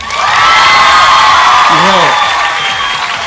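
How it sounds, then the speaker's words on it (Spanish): A television talent show studio audience cheers and claps loudly, with shouts, whoops and sustained applause rising together and a voice calling out briefly in the middle. "primero el público, con el aplauso del público"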